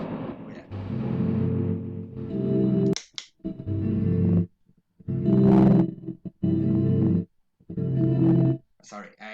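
An instrument runs through a Zoom effects unit patch with a noise reducer, sounding as loud distorted bursts that cut off abruptly into near silence between phrases.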